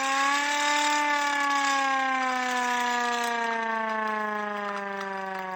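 An antique hand-cranked siren wails steadily, its pitch slowly winding down as it loses speed, loud and close with no voices.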